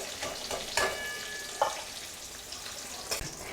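Cauliflower florets lightly frying in oil for bhoger khichuri: a low, continuous sizzle with a few scattered scrapes and clinks of a utensil against the pan, close and fairly quiet, no talk.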